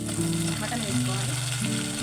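Mutton frying in a pan, a steady sizzling hiss throughout the two seconds with a tonal, humming background layered over it.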